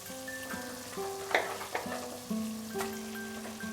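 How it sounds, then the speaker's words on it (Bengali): Mutton pieces go into hot frying spice masala for a Bengali curry, producing a steady sizzle with brief stirring scrapes and clinks, close and moderately quiet. "এবারে আমি এর মধ্যে দিয়ে দেব আমাদের মাটনের টুকরোটা"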